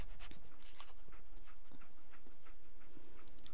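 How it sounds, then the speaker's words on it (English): A dog companion in the post-apocalyptic video game Fallout 4 whimpers and pants softly amid continuous game ambience and light footstep-like clatter, with no talking. "I'm trusting my family's future to a dog."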